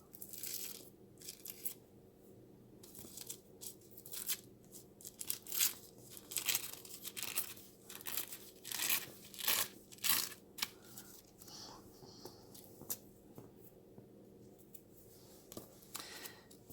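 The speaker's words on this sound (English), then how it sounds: "See, it doesn't rip very well." Paper torn by hand, a close sequence of quick ripping and crinkling bursts in uneven rhythm, some strokes longer and drawn out, with no talking.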